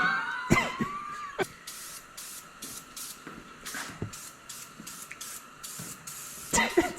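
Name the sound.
spray painting a car rear end in a shop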